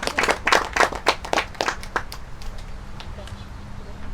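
A church congregation claps together in a brief burst of hand claps that soon fades out, with a preacher talking over it.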